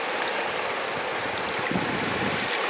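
Steady broadband rush of the muddy, swollen Acaraú River near the cable-stayed bridge in Sobral, Ceará, continuous and fairly loud, with a hint of wind across the microphone.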